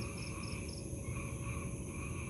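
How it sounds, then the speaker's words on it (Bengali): A dense night chorus of frogs and insects rings on steadily, continuous and layered, with no voices. "হঠাৎ ব্যাঙের ডাক বেড়ে গেল না"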